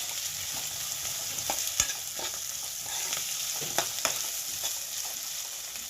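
Peas and mixed vegetables fry in a pan for vegetable upma, giving a steady sizzle broken by sharp scrapes and clicks of a spoon stirring at irregular moments, close and clear with no talking.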